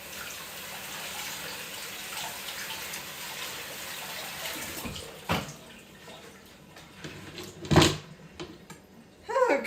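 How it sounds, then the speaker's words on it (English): A kitchen tap runs into a sink as food is rinsed under it, giving a steady close splash that breaks into sharper splashes and clatters toward the end, with no one talking. "So I'm gonna rinse this off quick."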